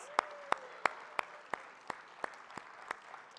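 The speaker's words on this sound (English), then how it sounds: "Give yourselves a round of applause." Steady, evenly spaced claps about three per second, faint and thin rather than a full ovation, from the audience at a conference closing session.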